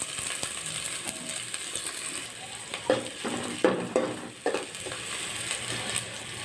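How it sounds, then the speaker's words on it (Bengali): Chilies and onions fry in hot oil in a heated pot, giving a quiet, steady sizzle with a few sharper scraping and stirring strokes in the middle, close and without speech. "এখন দিয়ে দিব মরিচ আর পেঁয়াজ ভালো করে ভাজিয়ে"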